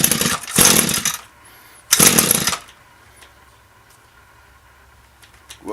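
A knockoff carburetor fitted to an Echo string trimmer, its small two-stroke engine roaring in two loud bursts at throttle before dropping back to a low idle, then sputtering briefly near the end.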